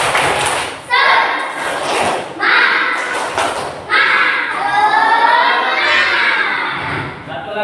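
A classroom of children clapping along to the 'tepuk semangat' chant, loud rhythmic bursts of claps and thumps mixed with chanted voices.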